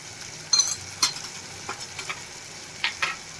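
A spoon stirring cooking tomatoes with a pinch of turmeric in a frying pan, soft sizzle underneath with a few sharp scrapes and clinks against the pan, close and unaccompanied by talk.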